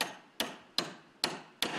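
A café owner on a ladder strikes with a hammer, four sharp evenly spaced blows, close and clear with nothing else around.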